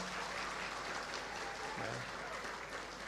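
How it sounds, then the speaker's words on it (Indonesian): An indoor audience at a university faculty graduation ceremony claps in sustained, dense applause, steady and fairly distant throughout, with faint voices beneath. "Tepuk tangan juga untuk diri sendiri juga."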